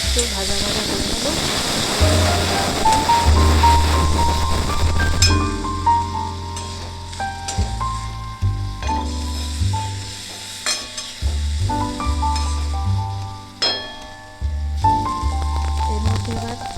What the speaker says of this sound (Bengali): এবার আমি একটু ভাজা ভাজা করে নেবো।